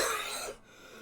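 A single harsh cough bursts out up close, loud at first and then fading into a quiet, breathy tail, with no other sounds around it.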